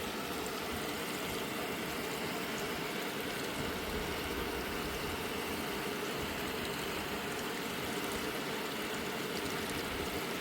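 Water runs steadily down a shower drain during a leak check on a DIY plumbing repair, a constant broadband rush with no pauses, fairly close and alone without voices.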